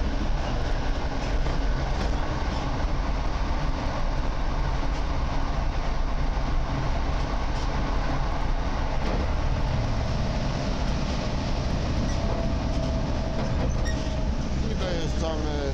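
An EN57 electric multiple unit of Koleje Mazowieckie, unit EN57-1566AKM, riding the rails toward Łowicz Główny, heard as a loud, continuous rolling rumble and rattle from on board, with faint clicks of the wheels over rail joints.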